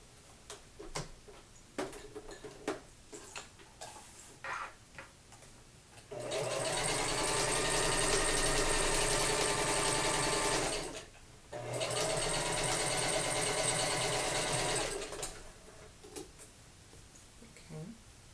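A sewing machine stitches an elastic band into a waistband in two sustained, steady runs separated by a short pause, loud and close, with brief talk and handling noises before and after.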